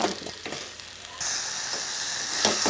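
Jaggery melting in a pan while being stirred for fresh coconut laddu, a continuous close hiss and sizzle with faint scraping and no speech.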